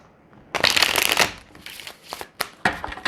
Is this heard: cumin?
no